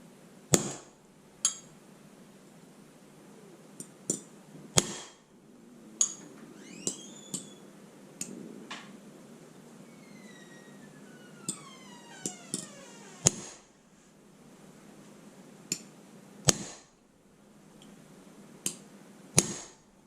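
A hammer strikes a hardened steel blade braced at an angle for bending, giving about a dozen sharp, ringing metallic impacts at irregular intervals, close and fairly loud, with quiet gaps between blows.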